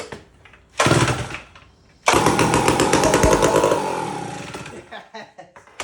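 A chainsaw engine is cranked over with its pull cord, giving a short rough burst followed by a longer churning run of about two seconds that fades out.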